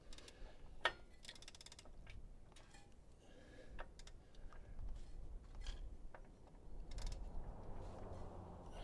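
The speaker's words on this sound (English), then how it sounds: "I think I can get more throw with it, with the ratchet over here" A ratchet wrench is cranked in a garage, giving a series of faint, close mechanical clicks and creaks at uneven intervals over a low background rumble.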